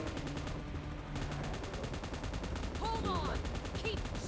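Gunfire in the mobile battle game PUBG Mobile, a dense run of rapid shots rattling steadily through the clip alongside game effects and faint chirping electronic tones, with a person talking over it.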